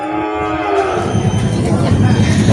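A female water buffalo (kalabaw) at a livestock market lets out a loud, close, low moo at the start, followed by steady noisy crowd and market bustle.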